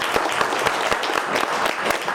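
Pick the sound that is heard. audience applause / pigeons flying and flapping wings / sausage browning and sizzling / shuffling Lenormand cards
audience applause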